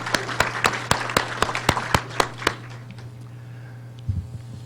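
Sparse applause for an MC at a Black History Month essay awards event: about ten distinct, evenly spaced claps ring out, then trail off into quiet room tone over a steady low hum.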